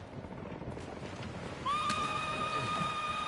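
Partway through, a horse in the video game Ghost of Tsushima lets out a drawn-out whinny over a steady, noisy rumble of background sound.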